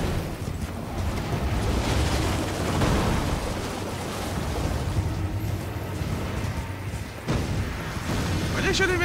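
Dense, continuous spell-casting and magic impacts from enemies in Elden Ring Shadow of the Erdtree form a busy wash of bursts and roaring effects, loud throughout, with a brief lull near the end.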